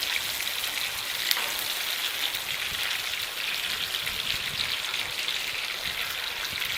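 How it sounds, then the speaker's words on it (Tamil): Green chillies frying in a pan for traditional Tamil pepper rasam, a steady dense sizzle and crackle throughout with no talking. "பச்சை மிளகாயெல்லாம் கொஞ்சம் ஃப்ரை ஆகணும்."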